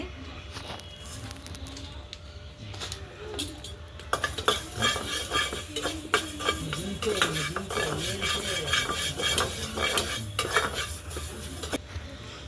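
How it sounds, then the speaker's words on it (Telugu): Mustard and fenugreek seeds frying in a pan over a wood fire, starting quiet with a few ticks before a busy stretch of crackling, popping and metal spoon scraping, close up with no clear talk. "ఆవాలు మెంతులు వేగాయి, దింపుకున్నాను"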